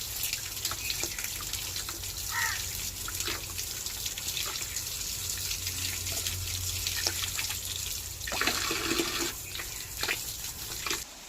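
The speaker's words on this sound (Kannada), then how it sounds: "ಇಲ್ಲಿ ಒಳಗೆ ನೀರು ಬಿಡಬೇಕು ಮೆಶ್ ಒಳಗಿಂದ ನೀರು ಬರಬೇಕು ಹೀಗೆ" A farm water filter's mesh screen is rinsed under flowing water, producing a continuous gentle gush and trickle with a few louder splashes near the end, no talking.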